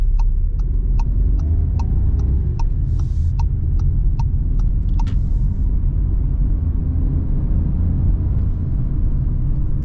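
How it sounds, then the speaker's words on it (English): A 2022 Volkswagen Polo's 3-cylinder 1-liter engine hums steadily from inside the car, a continuous low rumble lasting throughout, with faint regular ticking clicks over the first half. "This is a 3-cylinder, 1-liter engine. But it doesn't sound that thrashy at all."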